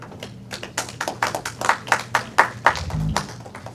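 A run of sharp hand claps at a memorial service, about a dozen in steady rhythm, fairly close and fading into a low hum at the end.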